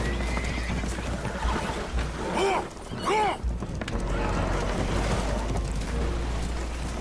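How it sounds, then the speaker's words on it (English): Spooked horses in Red Dead Redemption 2, aboard a holed boat taking on water, give two sharp, shrill whinnies mid-clip over a constant rumbling, churning background. "Horses are spooked"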